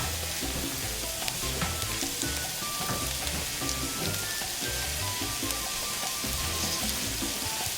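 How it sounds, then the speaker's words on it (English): Garlic and onions sauté in a pan for curry goat, giving a steady close crackling sizzle with soft stirring scrapes and no voices. "it doesn't take much for the garlic to get sauteed"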